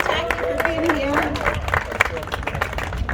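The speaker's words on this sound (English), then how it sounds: "If you guys want to give her a big clap" An audience at a Kaiser Healthtober Fest in Lancaster, California, claps for a guest, a brief scatter of close hand claps mixed with crowd murmur while a voice talks over it.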